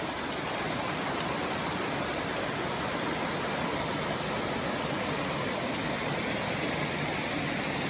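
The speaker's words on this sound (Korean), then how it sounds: "아하 이끼폭포 9폭 되겠습니다" The ninth cascade of the moss waterfall at Gariwangsan on an autumn mountain hike produces a constant, dense roar of falling water that holds at an even, fairly loud level throughout, with no voices.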